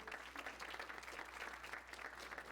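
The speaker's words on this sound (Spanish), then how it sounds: "Un fuerte aplauso nuevamente" An audience applauds at the close of a conference talk on water treatment, steady dense clapping from a crowd throughout, moderately distant.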